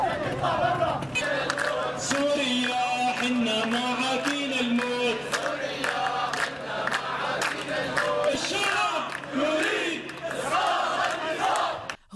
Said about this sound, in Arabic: هتافات لطالما صدح فيها السوريون